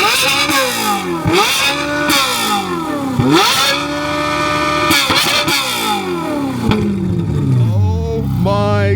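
A Ferrari 458 engine revs repeatedly, loud and close, its pitch climbing and dropping in several sweeps, then rising hard toward the end.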